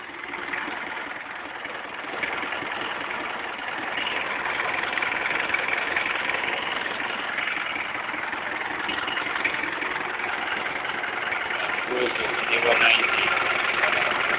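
A vehicle engine idles steadily with a continuous low mechanical hum that builds slightly and holds, heard up close alongside outdoor background noise.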